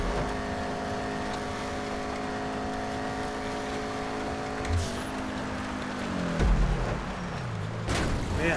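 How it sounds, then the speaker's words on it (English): A Yosemite muscle car in GTA Online holds a steady, droning exhaust note with harmonic engine tones, then dips and shifts as the revs fall near the end, with a couple of louder thumps. "gotta love the muscle cars just for the exhaust notes"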